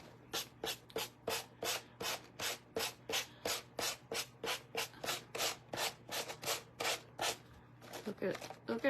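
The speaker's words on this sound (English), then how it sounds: "don't rub too hard with your gator when you're just doing a napkin" A gator burnishing tool rubs over a napkin in a fast, even series of about twenty short scraping strokes, close and fairly soft, followed by a brief spoken remark at the end.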